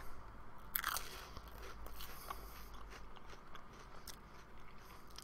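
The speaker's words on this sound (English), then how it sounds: "So these are little wafers that look like they're filled with some sort of cream." Crunchy bites into small cream-filled wafers from a Japan Crate snack box, with one loud close crunch followed by softer chewing crackles in a quiet room.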